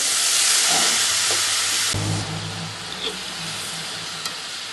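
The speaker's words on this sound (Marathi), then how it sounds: "भाजी आता वर खाली चांगली हलवून घेते।" Fenugreek leaves with chili and garlic fry in a pan while being tossed, a loud dense hiss that drops partway through to a quieter sizzle with a few utensil knocks.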